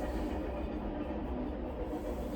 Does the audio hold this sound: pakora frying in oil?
no